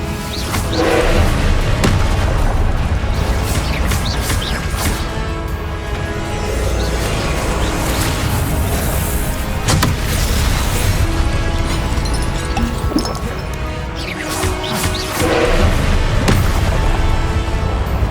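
Repeated blasting-spell explosions from the Hogwarts Legacy video game form a dense, loud barrage of booms and crashes over continuous game noise, with heavier impacts recurring throughout.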